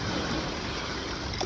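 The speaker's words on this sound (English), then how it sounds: "they came through and they splashed a bunch of waves up on the bank" Waves thrown up by a passing jet boat wash and splash against a bank of the Wisconsin River, a steady close rushing of water with no voices.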